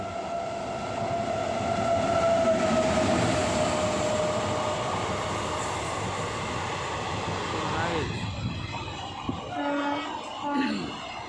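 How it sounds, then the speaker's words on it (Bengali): A huge luggage train passes on a station's number 2 line, a loud sustained rolling rumble with a drawn-out horn-like tone early on, easing and clattering more sparsely as it moves away near the end. "বিশাল বড় লাগেজ ট্রেন।"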